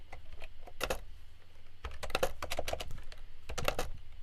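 Code being typed on a computer keyboard while writing JavaScript, heard as close, crisp key clicks in short irregular bursts with brief pauses between them, no talking.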